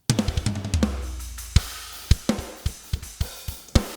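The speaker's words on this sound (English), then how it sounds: "So instead of it sounding just like this with the dry drums" Dry, unprocessed virtual drum kit from GGD Modern and Massive 2 playing a short groove: opening kick and tom hits with snare cracks and cymbal, then evenly spaced sharp hits, close and clean with no ambience.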